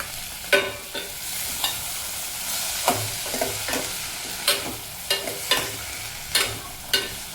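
Vegetables fry with asafoetida, tomato and coriander in a pan while a spoon stirs them: repeated scraping strokes in an irregular rhythm over a soft, constant sizzle, close up and with no voices.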